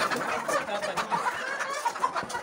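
A rooster on a chicken farm clucks and squawks while being chased, short agitated calls amid flapping and scuffling, close by and fairly busy throughout.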